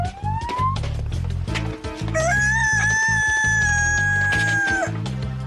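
An animated rooster crows in a long sustained call, loud over a bouncy cartoon music track with drum hits, in a comedy farm scene.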